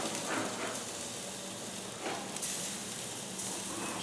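Bacon sizzles on top of burgers as it heats back up, a steady bright crackling hiss with a few louder pops, close and continuous with no talk.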